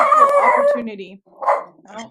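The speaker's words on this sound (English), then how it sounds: "that's my dog." A protective pet hound barks in short bursts close by, with a person talking over the first part before the barks come through.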